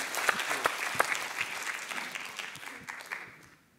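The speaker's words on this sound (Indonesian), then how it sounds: "Berikan tepuk tangan buat Pak Iwan." A church congregation at a Sunday service applauds, a dense, sustained round of clapping from many people with a few sharp individual claps standing out, tapering off at the end.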